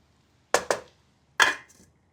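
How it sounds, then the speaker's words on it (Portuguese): A lid set onto a cooking pot of layered rice and potato for Persian crispy-bottom tahdig: two quick clattering knocks close together, then a third knock a moment later, each ringing briefly before fading. "Tampamos a panela."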